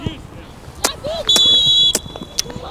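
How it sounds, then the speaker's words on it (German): A referee's whistle at a youth football match sounds as a sustained high tone lasting about half a second, with scattered sharp bangs and field noise before and after, plus voices nearby. "Schiedsrichter hat gepfiffen."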